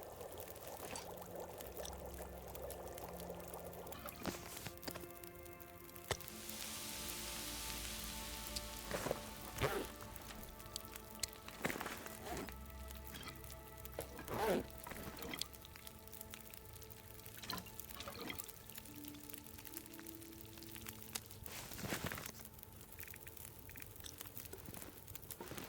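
Water is poured to cook broth in the survival video game The Long Dark, heard as a quiet, splashy pouring and trickling that lasts a while, with occasional soft crinkles and knocks.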